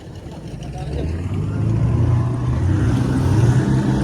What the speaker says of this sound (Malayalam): അപ്പതാ വള്ളം കരയിലോട്ട് പോകുന്നുണ്ട്